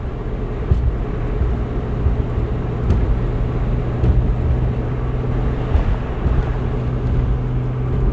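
A 230 hp V6-swapped Mazda Miata cruises in fourth gear at about 2,000 RPM. Its steady, low engine drone runs with road and wind rumble throughout, and no one speaks.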